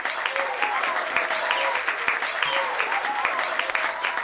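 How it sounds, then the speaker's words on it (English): Audience applause for a band at a live, intimate concert: sustained clapping from a crowd, moderately loud and steady, with some voices and whoops mixed into the noise. "maybe we can start with a round of applause for our beautiful band"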